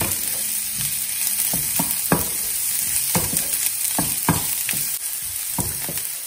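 Onions and tomato puree sautéing in a pan give a continuous loud sizzle, with irregular spoon scrapes and taps as the mixture is stirred; close up and without speech.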